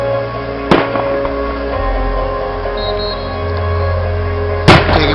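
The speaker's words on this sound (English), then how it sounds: "These are the closing fireworks for the celebration here." Closing fireworks at a 2010 Olympics torch relay celebration in Airdrie go off nearby: two sharp loud bangs about four seconds apart over a continuous rumbling background.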